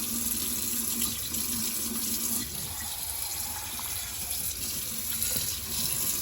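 Running tap water rinsing a Dyson V15s Submarine vacuum part under a faucet, a steady hiss of flowing water into a sink with slight shifts as the part moves through the stream.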